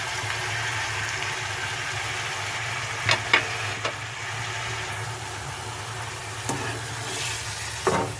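Beef keema being stirred and fried with tomatoes and spices, a steady low sizzle throughout, with a few sharp scrapes of a spoon against the pan at intervals.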